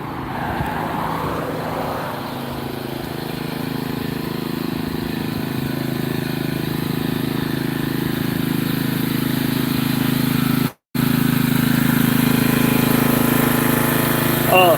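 A Ranger utility vehicle with a forward-and-back drive approaches, its engine a steady, continuous drone that grows slightly louder as it arrives, with a brief cut partway through.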